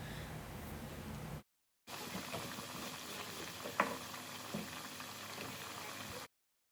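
Potatoes frying for home fries, giving a steady, soft bubbling sizzle that fills the scene, broken by a brief silent gap and one small pop, with no talking.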